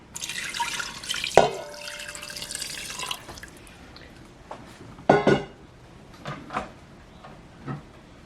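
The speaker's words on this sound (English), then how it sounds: "So I'm now going in with the water." Water is poured into a cooking pot while making cheesy chicken stuffed pasta shells, coming as close splashing bursts and trickles separated by quieter gaps and a few drips.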